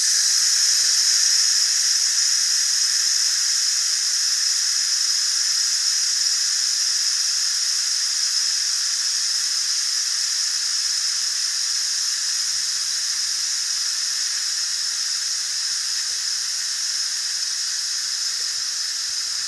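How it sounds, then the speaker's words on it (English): Steam vents from an Instant Pot pressure cooker making duck fajitas, a steady loud hiss with a high whistling edge that holds continuous and unbroken throughout, fading only slightly toward the end. "Let's go ahead and release the steam."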